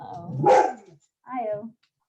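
A dog barks twice at close range, one loud bark followed by a shorter second bark after a brief silence.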